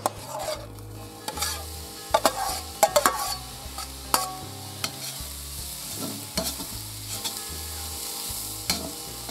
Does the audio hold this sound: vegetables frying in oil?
yes